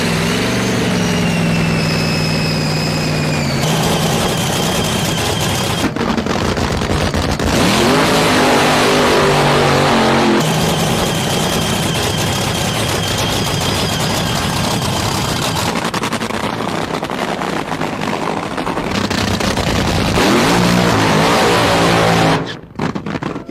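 Top fuel dragster engines fire up at the start of a drag race, a loud, continuous, raw roar with rising and falling revs that holds for about twenty seconds before cutting out abruptly.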